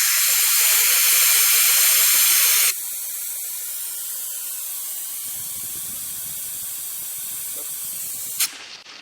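BUSCHiNG vacuum pump drawing washer fluid out of a car's coolant reservoir, a loud steady hiss that drops to a quieter continuous suction sound, with gurgling and a brief click near the end.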